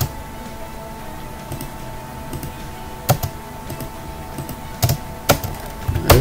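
Computer keyboard keys pressed while editing a 3D house model in SketchUp: a few sharp, separate clicks spread over a quiet background hum, with small clusters near the end.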